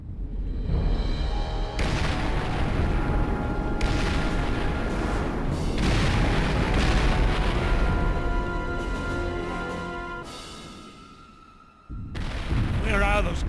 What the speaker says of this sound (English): Ray, take the other Gatling gun!